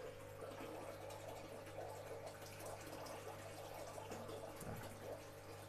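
Water steeped with ketapang leaves being poured from a scoop into an indoor channa maru fish tank, a faint continuous trickle and splash over a low steady pump hum, with no voices.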